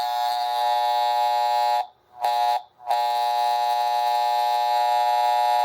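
A Marx toy diesel horn at an Oak Park Station buzzes with a loud, steady electric drone close by while its solenoid screw is adjusted. The tone cuts out twice for short gaps in the middle, then resumes steadily.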